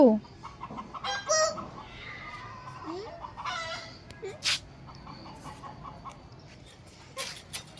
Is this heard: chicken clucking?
yes